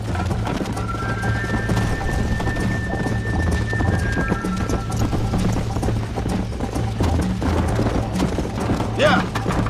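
Steady hoofbeats of a galloping horse in Red Dead Redemption run throughout at a constant pace, with a brief whinny-like call near the end.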